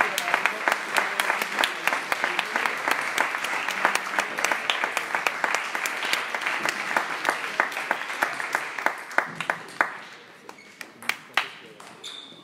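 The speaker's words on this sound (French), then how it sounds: "Ce que je vous demande, c'est les applaudir très très fort." Loud audience applause for players at a table tennis tournament, many sharp claps sustained for about ten seconds before thinning into a few scattered claps.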